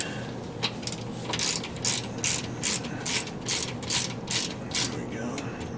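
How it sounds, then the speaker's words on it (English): A ratchet clicks in quick rhythmic bursts while tightening the rear differential drain plug on a 2002 GMC Envoy, close and loud, with a brief pause between pulls and no speech. "We're just gonna tighten this guy on the bottom, the drain plug."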